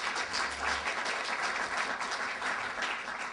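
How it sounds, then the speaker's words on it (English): A conference crowd at a political gathering claps in a sustained, even round of applause, dense and continuous with no voices over it. "let's give a round of applause to Answer Coalition and to Nadia"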